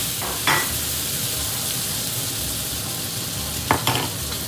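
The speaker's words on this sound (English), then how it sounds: "as our butter is melting" Butter melting and sizzling in a pan before pork chops go in, a constant close hiss with two brief bursts of louder crackle from stirring.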